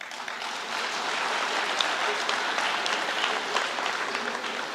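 Steady applause from an audience at a university talk, a dense even wash of clapping that holds at a moderate level throughout with no voices on top.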